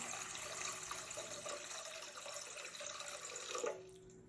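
Water is poured from a container into a mixing bowl sitting on a kitchen scale while making bread dough, a steady, faint splashing stream that runs for about three and a half seconds before it stops.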